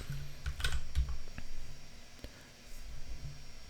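Python code being typed on a computer keyboard: quick irregular clusters of soft key clicks with short pauses between bursts, close and fairly quiet, with no talking.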